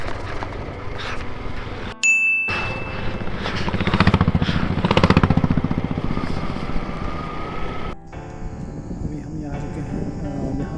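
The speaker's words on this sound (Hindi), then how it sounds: "कुछ बाइकर्स का ग्रुप आ रहा है बाहर से।" Several motorcycles ridden by a group of bikers on a mountain road in Spiti rumble past close by. The engine roar swells and fades over about ten seconds, and a voice talks briefly.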